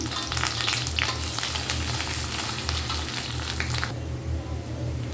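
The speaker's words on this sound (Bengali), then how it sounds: "রসুন পেঁয়াজ কালো জিরা সুন্দর একটি ফ্লেভার বের হইতেছে আমি ভালো করে একটু ভেজে নিব" Garlic, onion, a dry chili and black cumin sizzle in hot oil in a pan, a steady close frying hiss with stirring scrapes, the sizzle dropping somewhat near the end.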